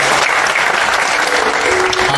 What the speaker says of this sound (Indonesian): Tepuk tangan dulu dari